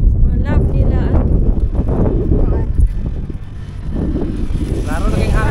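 Fresh sea breeze blows hard against the microphone on a roadside walk between Tangub and Tubod, a loud, continuous buffeting roar that surges and dips without pause.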